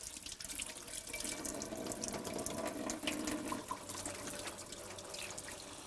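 Hands rinsed under a running kitchen tap during fish cooking, a steady splashing stream of water into a sink with shifting splatter, close and moderately loud throughout.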